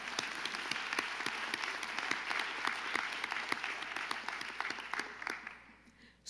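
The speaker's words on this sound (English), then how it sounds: "yes, let's clap for them." Applause from the audience at a school board meeting, a steady wash of many hands clapping close by that fades away over the last second.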